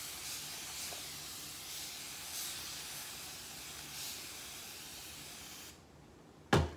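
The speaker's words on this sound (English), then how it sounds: "my handy dandy spray bottle of water" Several soft, hissing bursts from a handheld spray bottle misting water onto hair come in a loose rhythm over a faint background, then a sharp click sounds at the end.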